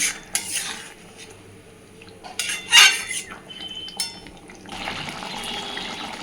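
A lid is set onto a pot of simmering potato curry for alur dom, giving a few sharp metallic clinks and scrapes close by, with a soft hiss of steam and simmering afterward; no one speaks.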